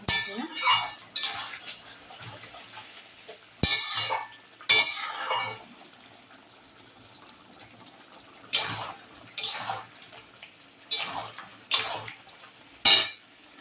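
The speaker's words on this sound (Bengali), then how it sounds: "এবার আমি পনিরগুলো দেবো। পনিরগুলো দিয়ে একটু নাড়াচাড়া আমি করবো।" Paneer being stirred in a pan for chilli paneer brings intermittent scraping and clinking bursts of a utensil against metal, separated by quieter gaps with a low sizzle underneath.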